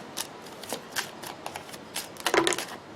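Tarot cards being shuffled by hand: a series of quick papery riffles and soft snaps at an uneven pace, close and fairly quiet, with a denser burst of flicking near the end.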